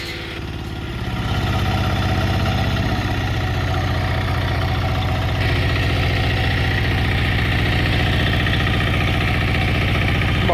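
A car engine, just repaired, cranks briefly then catches and settles into a steady, loud idle with a rhythmic low throb, running alone without talk for the rest of the clip.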